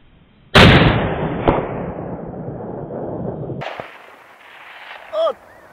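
A loud, close Howa .308 rifle shot with a fast trigger cracks suddenly and echoes for about three seconds, followed by a soft thump and a brief vocal sound.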